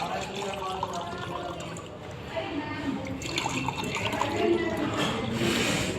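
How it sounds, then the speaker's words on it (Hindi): Water is poured into two glasses, a trickling, splashing flow whose pitch rises as the glasses fill, with someone talking over it. "मैं फिर से ये दोनों ही ग्लास में पानी भर रहा हूं।"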